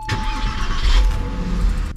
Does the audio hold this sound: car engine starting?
yes